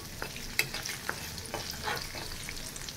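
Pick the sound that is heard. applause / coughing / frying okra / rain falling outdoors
frying okra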